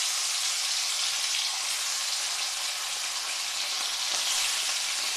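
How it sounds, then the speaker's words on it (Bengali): Fresh river khoira fish fry in oil in a pan, giving a loud, steady, hissing sizzle that runs unbroken with no talk. "পরে এই মাছগুলো আমি একইভাবে ভেজে নেব"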